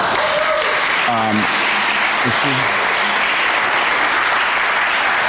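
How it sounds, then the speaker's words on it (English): A congregation in a sanctuary applauds Andrea Durham after a Diwali celebration, a loud, dense burst of clapping from many people, with a few brief voices rising through the noise near the start. "I want to invite you to give her a round of applause."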